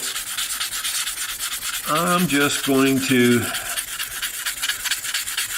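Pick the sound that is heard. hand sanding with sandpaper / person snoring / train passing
hand sanding with sandpaper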